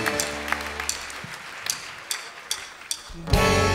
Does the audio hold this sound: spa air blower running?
no